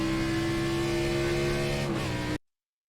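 Xfinity race car at Watkins Glen in iRacing, a steady high-pitched engine drone held loud and close, rising slightly before cutting off abruptly into silence.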